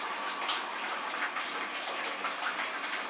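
Hot water gushes steadily from a hot liquor tank into a mash tun during fly sparging on a homebrew blonde ale day, a close, continuous rushing flow with no talk over it.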